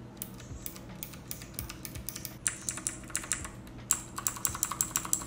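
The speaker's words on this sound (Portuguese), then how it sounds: "Ele vai ser assim um switch que faz ali um barulhinho" Typing on a Machenike K600 mechanical keyboard with blue clicky switches, a quick run of sharp, crisp keystrokes close up, growing louder and more distinct toward the end.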